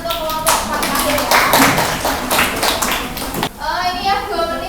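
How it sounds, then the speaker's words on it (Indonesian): Short burst of clapping from a small classroom group for the last presenting group, fairly close and uneven, while voices talk over it and a teacher speaks near the end. "Oke, kasih tepuk tangan untuk kelompok terakhir ya."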